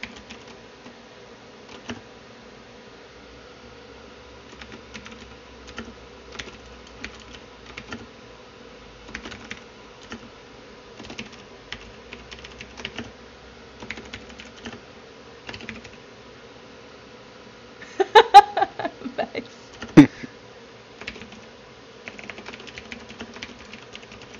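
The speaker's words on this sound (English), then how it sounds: "I'm typing out groups right now." Soft computer keyboard typing comes in scattered clicks and short runs over a steady low hum, with a louder cluster of keystrokes near the end.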